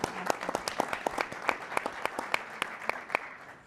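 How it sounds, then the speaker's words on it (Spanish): A small audience at a university panel on organized crime strategies claps to open the session, distinct individual hand claps in a quick uneven rhythm, fairly close and moderate in volume. "Un aplauso para ellos para comenzar el panel."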